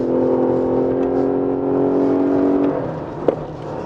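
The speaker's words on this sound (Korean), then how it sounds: "엔진 소리는 이렇게 크게 올라오고 타이어는 침묵을 지키고 있습니다" A Lexus LS 500h hybrid under hard acceleration gives a rising, strained engine drone from inside the cabin, then eases off, with a brief knock near the end.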